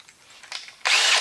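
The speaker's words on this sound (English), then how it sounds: "I'm going to drill it out a couple more sizes, just a little at a time" A power drill bores out the hole in a thrust bearing: a couple of short grinding bursts, then a louder sustained whine of the bit cutting metal near the end, close up with no talking.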